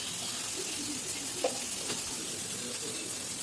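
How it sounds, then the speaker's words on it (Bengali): Ground spices fry in a pan with a steady sizzle, close and continuous, with occasional faint stirring scrapes. "আস্তে আস্তে এই মশলাগুলো দিয়ে ভালো করে কষিয়ে নেবো।"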